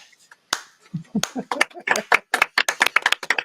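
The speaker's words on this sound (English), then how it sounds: "Slow clap, everybody!" Sparse hand claps start slowly and speed up into a quicker clapping rhythm, close by, with no talking.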